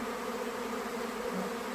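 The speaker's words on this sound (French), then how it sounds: "Quand il y a un essaimage comme ça, j'aime bien venir vraiment au contact des abeilles" A swarm of honeybees buzzes close by in a steady, dense drone that holds unbroken throughout.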